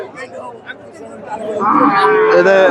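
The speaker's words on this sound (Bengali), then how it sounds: "প্রচুর গাভী আছে" Cows, local and Sahiwal-cross dairy cows with calves, mooing at a busy cattle market; deep lowing calls swell and grow louder toward the end over a background of crowd chatter.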